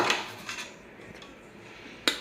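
Knife cutting tomatoes on a plate, with a few light clinks and taps of the blade against the plate, spaced out and fairly close, with a sharper knock at the end.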